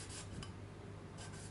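A new guitar nut for a Fender Mexican Stratocaster refret being sanded, giving faint, close rasping strokes, a couple of brief scrubbing passes over a low steady room hum.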